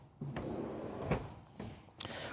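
A soft-close pull-out drawer in a 2024 Newmar Dutch Star RV kitchen slides and eases shut, giving a few quiet close rumbles and soft knocks, near and alone.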